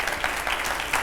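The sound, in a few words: studio audience applause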